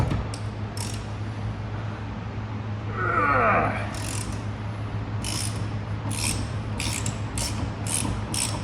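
A ratchet wrench works a spark plug loose on a 2006 Vauxhall Corsa C 1.0, with quick bursts of ratcheting clicks toward the end over a constant low workshop hum and a brief squeak partway through.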